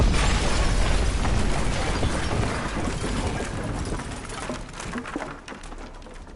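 A loud explosion in The Witcher III: Wild Hunt, a broad roaring blast that fills the opening and then slowly rumbles and crackles away over several seconds, with no talk over it.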